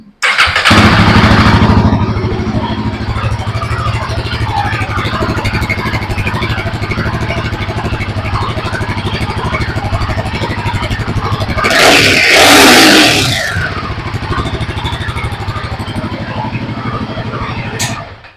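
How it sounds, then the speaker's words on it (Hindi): A Royal Enfield Himalayan 450 adventure motorcycle with a liquid-cooled engine idles close up, starting with a loud rev that settles into a smooth, steady idle, followed by a brief swell of revving near the end. "A very smooth sound from this very amazing liquid cooled engine."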